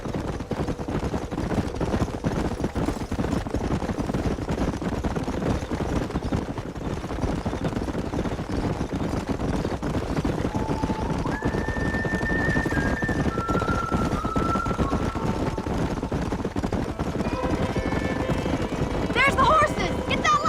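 Horses gallop in Red Dead Redemption with a continuous hoof rumble under steady wind and movement noise. Voices talk over it, and a few brief tonal whistles appear near the middle.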